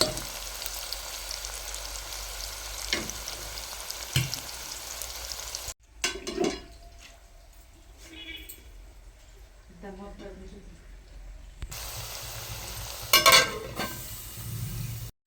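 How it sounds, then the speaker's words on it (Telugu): Onions frying in a pan for mutton curry, a steady broadband sizzle with occasional stirring scrapes, broken by a short quieter stretch midway before the loud sizzle returns. "ఉల్లిపాయ కూడా త్వరగా వేగిపోద్ది ఇలా వేపేసుకుందాం"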